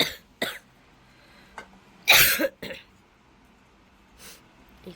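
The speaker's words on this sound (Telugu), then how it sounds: "Ignore my cough." A person coughs several times in short, sharp bursts, one stronger double cough in the middle, separated by quiet pauses during a day out with friends.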